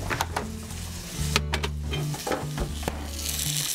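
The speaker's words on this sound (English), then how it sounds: "In goes the chicken. Nice sizzle, that's what we're looking for." Chicken sizzles loudly in avocado oil in a hot pan, a steady close frying hiss with a few scraping stirs and clinks of utensils against the pan.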